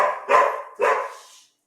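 A pup gives two quick sharp barks in a row, close and fairly loud, then falls silent.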